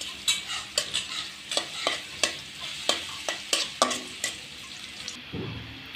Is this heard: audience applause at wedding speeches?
no